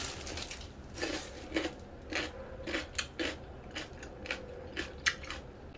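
Crunchy cubed radish kimchi (kkakdugi) bitten and chewed close up, with a steady run of sharp, wet crunches about every half second and no talking.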